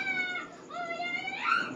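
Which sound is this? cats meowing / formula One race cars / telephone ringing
cats meowing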